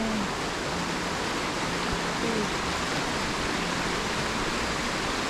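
Steady, broadband rushing of falling water, continuous and fairly soft, with no voices.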